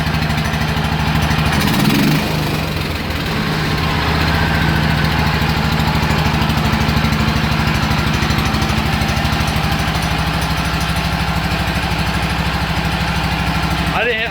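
A flat track racing mower's engine, fuel pump primed, catches and keeps running with a loud, rough, continuous chugging drone close by throughout.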